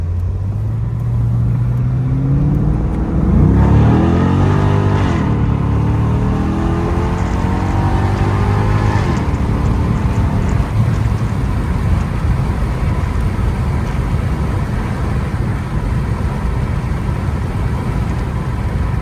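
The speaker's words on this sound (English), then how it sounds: "It's got a great sound out the exhaust" A 2011 Chevrolet Corvette Convertible engine revs up and accelerates loudly, its exhaust roaring through rising gear pitches, then settling into a steady drone as it drives on.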